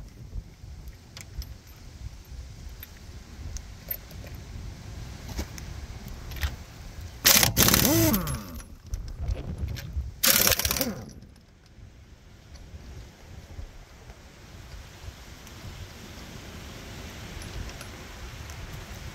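A rear wheel comes off a 2020 Toyota Corolla XSE, with two loud bursts of tool whirring or rattling in the middle over a quiet, steady background hum.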